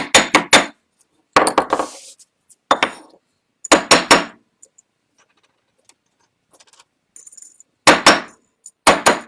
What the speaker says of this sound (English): Just gonna hammer it down.